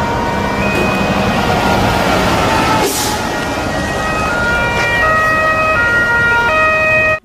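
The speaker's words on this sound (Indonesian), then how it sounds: "Lihat teman-teman, ini adalah truk damkar." Electronic siren of a toy fire truck, a steady pattern of wailing and alternating tones that plays loudly and without pause, with a brief clatter partway through and no talk.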